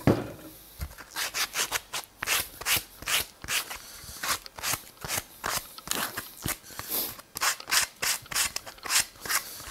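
A wooden birdhouse roof is roughed down with steady, rhythmic rasping strokes, about two per second, close and loud, each one a scratchy burst of wood abrasion with short pauses between.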